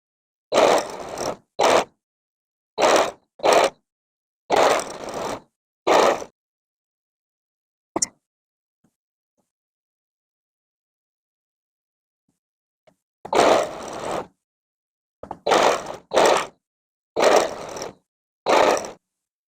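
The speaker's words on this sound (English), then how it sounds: "And I'm going to sew it." Sewing machine stitching pieced quilt block fabric, heard as short bursts of rapid mechanical whirring in a stop-start rhythm, with a long quiet gap in the middle.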